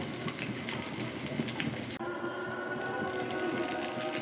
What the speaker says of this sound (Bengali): একটা একটা করে উল্টিয়ে দেব অল্প আছে ভালো করে ভেজে নিতে হবে